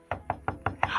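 Five firm knocks on a door in quick, even succession, close and loud, with the last blending into a brief rising noise.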